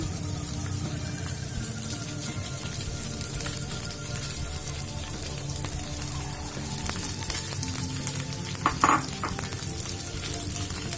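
Potatoes broken by hand into a pan of sizzling grated ginger and green chilli, then stirred; a steady frying hiss runs throughout with occasional scraping, and a brief louder clatter near the end.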